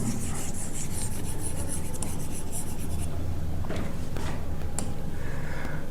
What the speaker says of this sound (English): Let me erase this.